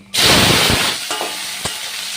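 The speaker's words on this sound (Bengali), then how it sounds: "এবার আমি টমেটো কুচিগুলো দিয়ে দেবো।" Chopped tomatoes hit hot oil tempered with dried red chillies and whole cumin, bursting into a loud, close sizzle that slowly eases, with a couple of sharp utensil clinks near the end.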